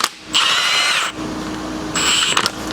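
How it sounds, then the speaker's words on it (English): A 3/4 inch impact gun spins off a car's strut nut on a MK2 Golf: two loud whirring bursts of the air tool separated by a quieter pause, close up, with no talking. "then we can rip it straight off with the gun"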